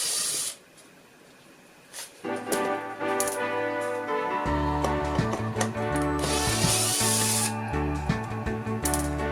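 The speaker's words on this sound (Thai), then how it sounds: "เราก็มาถอดน็อต ที่ยึดตัวนี้ออก" A hand tool works a nut loose during a woodworking build of a bathroom shelf, giving repeated close ratcheting clicks and metallic rattles with bursts of hiss, steady and fairly loud after a brief quiet start.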